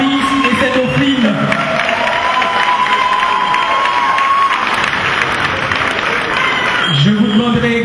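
An audience at the Miss Haiti International 2011 pageant in France claps and cheers for the top three finishers, steady crowd applause with whoops and shouts, while a voice carries over the noise.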